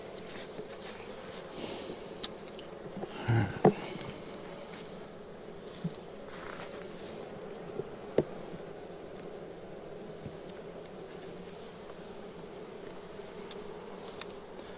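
Honey bees at an opened hive hum as a low, constant buzz throughout, with occasional soft knocks and taps from hive handling, and no talking.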